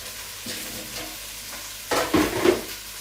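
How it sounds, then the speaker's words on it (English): Lamb shanks sizzle in a pan coated in a spiced mixture. A steady close frying hiss rises into louder crackling bursts in the final second, with no talking. "just let them sizzle a little bit in the mixture that we made"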